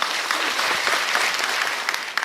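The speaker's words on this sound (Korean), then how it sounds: "세상에 많은 사람의 통증을 케어하시는 선생님에게 박수 한번 주십시오." An audience at a lecture bursts into steady, dense applause that runs the whole time, loud and close, with a couple of sharper claps near the end.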